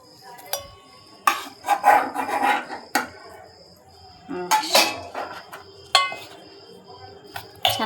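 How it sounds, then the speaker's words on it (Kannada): Spoon scraping and rubbing through pickle mixed with oil and garlic in a bowl, several close bursts of rasping, clinking strokes separated by short pauses. "ಚೆನ್ನಾಗಿ ಮಿಕ್ಸ್ ಮಾಡ್ಕೊಳ್ಳಿ."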